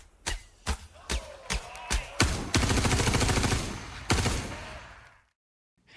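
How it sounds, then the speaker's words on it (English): Bullets fired in a Star Engine tech demo game: several sharp, loud single shots at steady intervals, then a sustained rapid burst of gunfire that ends abruptly into silence. "And then this next demo, we're going to fire some bullets."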